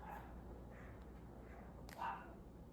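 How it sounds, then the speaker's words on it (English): A dog barks once in the distance, a short faint yelp rising briefly over a quiet indoor room tone. "don't know what the dog's barking at"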